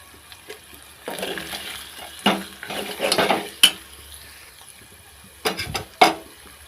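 Ginger paste and turmeric fry in a pan for chicken fry, giving a low sizzle broken by a few loud scraping stirs and clinks of a utensil against the pan.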